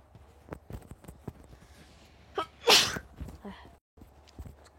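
A single sharp sneeze bursts out close to the microphone in the middle of a quiet stretch, surrounded by soft clicks and light footstep-like taps.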